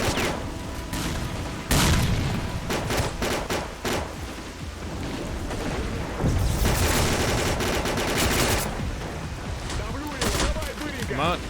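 Gunfire and bullets crack through S.T.A.L.K.E.R. Clear Sky, with dense bursts of rifle shots and booms coming almost constantly, loud and busy, while someone talks over the action.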